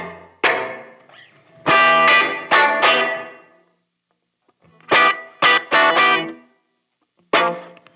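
Guitar played through a Strymon Iridium amp modeler set to a big room size, distorted chords ringing in bursts with short gaps between, loud and alone.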